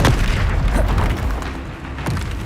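A Confringo spell blast in the Hogwarts Legacy game, a loud, dense boom rolling into a rumbling burst, with a second thump near the end and no voices.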